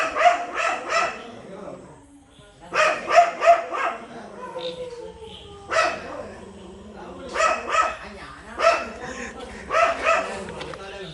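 Dogs barking at night outside a dark house, several sharp bursts of barks and yips in repeated clusters, fairly close, with a low hum beneath and some voices mixed in.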